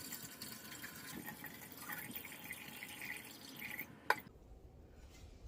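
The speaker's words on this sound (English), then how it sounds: "So let me keep adding water." Water pours into the tank of a Reemkizz humidifier, a steady trickling fill that runs for several seconds, then stops with a sharp clunk and near silence.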